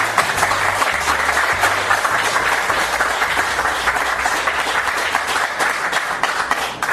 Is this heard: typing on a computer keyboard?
no